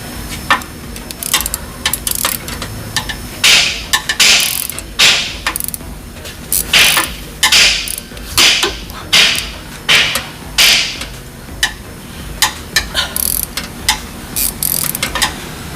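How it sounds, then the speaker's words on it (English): An engine crank turned by hand while a belt runs over its pulleys, producing close, loud repeated mechanical clicks and ratcheting clunks in an uneven rhythm under a steady low background. "Now, let me spin the crank, make sure the belt is seated."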